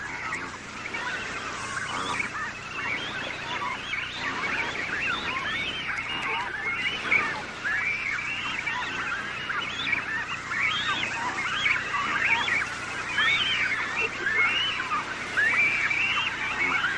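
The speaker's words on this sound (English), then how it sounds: "imperial cormorants nest practically on top of each other and squabble incessantly" A dense colony of nesting imperial cormorants on the Patagonian coast squabbles without pause, a steady wash of harsh overlapping calls and croaks filling the whole stretch with no voices.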